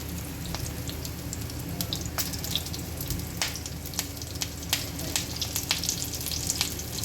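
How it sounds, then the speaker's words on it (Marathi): Brinjal slices shallow fry in a pan, giving a steady close sizzle broken by scattered sharp pops and crackles throughout. No one talks. "आता आपण म्हणजे आचेवर थोडं छान शालो फ्राय करून घेऊया दोन्ही बाजूने"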